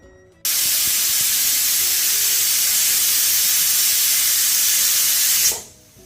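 A pressure cooker of mixed vegetables on a gas stove at medium flame lets out one loud, steady steam whistle, a continuous hiss lasting about five seconds before cutting off.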